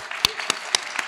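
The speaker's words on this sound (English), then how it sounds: "Round of applause." Four sparse, evenly spaced claps ring out from a convention panel audience over a low room hum, faint and brief rather than a full round.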